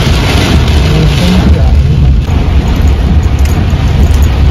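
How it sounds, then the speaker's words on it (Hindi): A storm drives wind-blown rain in a dense, loud, continuous wash of noise, with a deep rumble underneath, heard during a car journey past fallen trees. "हवा से उड़ उड़ कर बारिश आ रही है."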